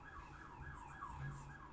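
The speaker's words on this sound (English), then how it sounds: "That's an ambulance, actually." An ambulance siren passes outside, its wailing tone faint and distant under a steady background hum.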